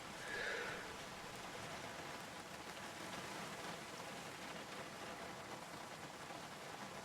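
Steady rain in the Project Zomboid video game, a dense, even hiss of falling water that holds constant throughout with no voices over it.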